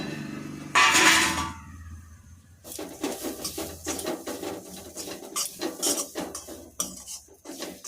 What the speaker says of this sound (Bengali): তো এরপর এর সাথে সুজিটা আমি মিশিয়ে দিই